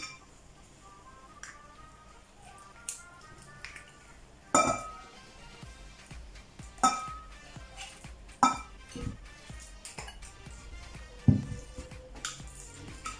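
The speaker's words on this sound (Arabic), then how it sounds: "نخلط على هذا الشكل حتى ان الدجاج كله يشرب ليا هذيك المقادير اللي درت ليه" Chicken pieces being mixed into a marinade in a bowl for oven-baked chicken, heard as scattered clinks and knocks of a utensil against the bowl with soft wet movement between them, close and fairly quiet.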